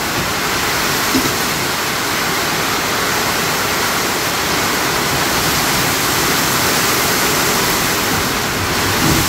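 Strong typhoon wind and driving rain lash a rooftop during Typhoon Tino, a loud, steady roaring wash with no pauses and no voices.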